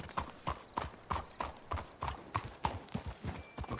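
Horse hooves clip-clop in a steady, fairly quick rhythm in Red Dead Redemption 2, sounding close and moderately loud with little else around them.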